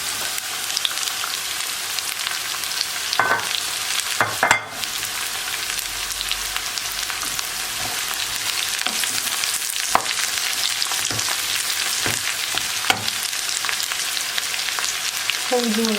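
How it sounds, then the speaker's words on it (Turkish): Potatoes fry with a steady, busy sizzle in a pan as leeks are tipped in and stirred, with occasional sharp scrapes and knocks of the utensil through the continuous crackle. "Evet şimdi pırasalarımı ekliyorum."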